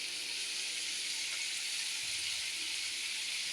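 Onion paste and tomato paste sizzle in a hot pan, giving a steady, close hiss that holds at an even level throughout, with no voices.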